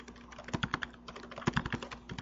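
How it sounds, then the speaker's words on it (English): Quick, irregular keystrokes on a computer keyboard at an Oracle database server, close and crisp clicks in short bursts with no voices. "I can type"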